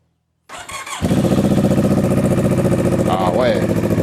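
A CF Moto 400NK motorcycle fitted with an exhaust baffle starts up and settles into a loud, throbbing idle close by, its rapid steady pulse continuing as a person speaks briefly over it.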